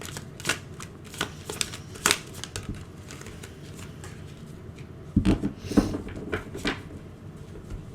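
Tarot cards are shuffled by hand, close and fairly soft, in quick riffling flurries with small taps and pauses, over a faint room hush.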